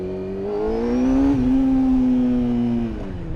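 A carburetted Honda motorcycle pulls hard in first gear with the front wheel lifting, its engine note climbing then holding steady at a loud, close roar for a few seconds.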